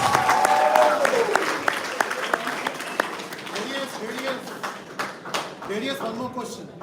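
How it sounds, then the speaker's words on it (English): Audience clapping for third-prize winners at a hackathon award ceremony, a steady mid-level patter of hands with a voice speaking over it near the start and light taps scattered through. "Okay, guys, claps."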